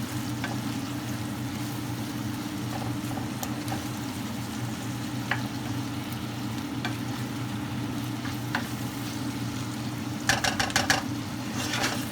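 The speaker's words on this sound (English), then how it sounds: "And then you just start stirring up and mixing with all the other veggies." Tinned mackerel is stirred with vegetables in a hot pan: constant close sizzling with occasional utensil scrapes, then a quick burst of clinks near the end, with no voices.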